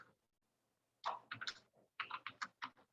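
Typing HTML code on a computer keyboard, a close, quiet burst of quick key clicks after a brief pause, then another rapid run of taps.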